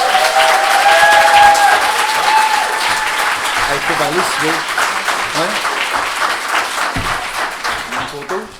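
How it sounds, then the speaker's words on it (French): Audience applause at the Alliance Dignité Prix Denise Lachance Trudel 2022 award ceremony, honoring a laureate's prize, with dense clapping sustained across the room while a nearby voice speaks briefly in French over it. "J'aimerais qu'on l'applaudisse."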